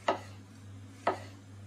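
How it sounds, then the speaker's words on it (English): Two crisp knife chops through vegetable stalks on a cutting board, evenly spaced about a second apart, quiet and close over a steady low hum. "And then, again, just simply slicing them."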